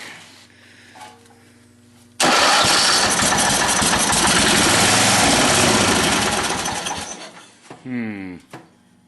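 A John Deere 111 hydrostatic lawn tractor engine cranks, catches and roars loudly for several seconds before dying down, with quiet murmuring before it fires and a short sputtering cough at the end.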